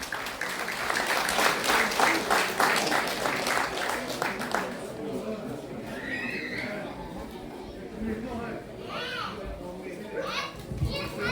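Applause from a crowd at a ceremony conferring the Legion of Honour, steady clapping in the first few seconds that fades into chatter, children's voices and scattered room noise.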